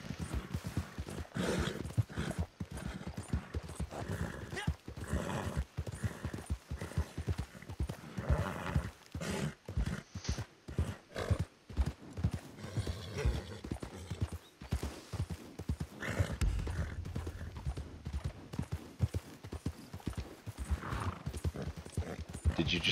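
Horse hooves clip-clopping in a video game, irregular runs of hoofbeats with occasional whinnies, under frequent casual talk between players.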